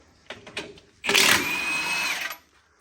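A power tool breaks loose the lug nuts on a single-axle truck wheel: a few quick taps, then one loud, close, sustained burst of whirring lasting just over a second before it cuts off.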